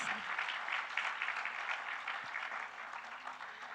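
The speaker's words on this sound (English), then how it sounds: "they really deserve a big round of applause" Sustained audience applause at a school Founders' Day celebration, a steady wash of many hands clapping that fades slightly toward the end, with no voices over it.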